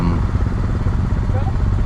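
An adventure motorcycle engine idles on a hot early-morning backcountry route, giving a low, steady throb while someone talks over it.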